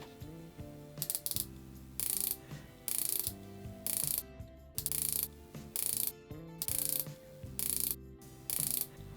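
Crisp mechanical clicking in repeated bursts, a close-up ratcheting as the bezel of a WISE Adamascus watch is turned, with short pauses between each run of clicks.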